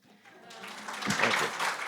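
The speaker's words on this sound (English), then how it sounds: "Okay, that's when you can clap." Audience applause following a literary reading, starting faintly after a brief spoken moment and swelling into a fuller burst of clapping from a seated crowd near the end.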